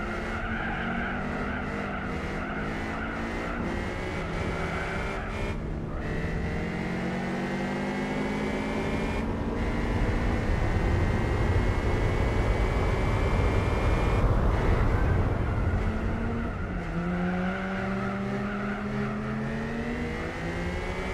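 Race cars lapping a track in Gran Turismo 4, engines droning and shifting pitch with tires squealing and skidding, several cars overlapping in a continuous loud stream.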